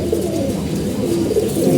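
Pigeons coo steadily in low, throaty murmurs, several birds overlapping close by with no pauses.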